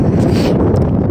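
Steady wind rushes against the microphone during a motorbike ride toward Sailung, a dense, continuous roar that stays loud and unbroken throughout, with no voices heard.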